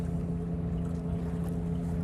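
A sailboat motoring under engine power, giving a steady low droning hum with wind noise over the microphone, continuous and close, with no talking.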